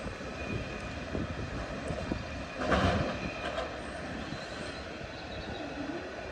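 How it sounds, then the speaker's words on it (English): An old coal train formation rumbles past steadily, wagons rolling by with a continuous clattering roar and a brief louder swell midway. "Like it's an old coal train formation, isn't it?"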